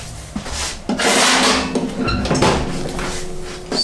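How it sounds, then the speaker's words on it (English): A drain tray slides into the front of a Tovala Gen 2 smart oven beneath the door, giving a close scraping rub with a few light knocks and clicks over a couple of seconds. "Slide the drain tray into the front of your oven underneath oven door."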